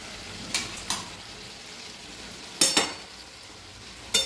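Potatoes and already-fried pointed gourd going into a hot pan, with a soft continuous sizzle and a few sharp clinks of a spoon stirring against the pan, fairly quiet and close.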